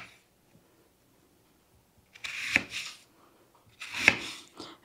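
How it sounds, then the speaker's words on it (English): A knife thinly slices a West Virginia candy onion on a cutting board in two short runs of quick, crisp cuts, close and fairly soft against near silence. "you just want to slice them real thin, just like this"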